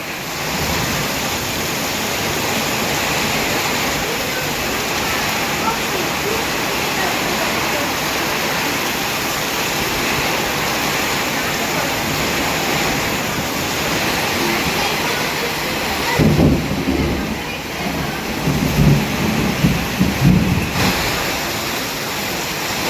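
Heavy evening rain with thunder over an areca nut plantation: a dense, steady roar of downpour throughout, with deeper rumbling surges in the final seconds.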